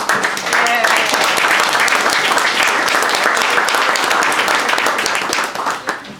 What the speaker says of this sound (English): I'd like to give a round of applause to each one of the development teams